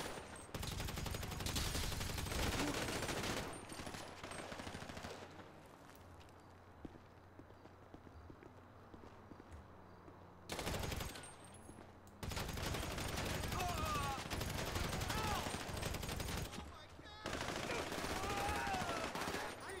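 Sustained bursts of automatic gunfire in the video game Grand Theft Auto V during an online heist, loud rapid volleys broken by short lulls, with players shouting over the shooting.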